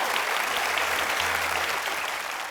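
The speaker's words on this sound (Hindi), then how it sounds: "आप सबकी जोरदार तालियों के बीच में इनवाइट करना चाहूंगा" Studio audience on a comedy talk show breaks into a dense, continuous burst of clapping, loud and sustained, with no voices over it.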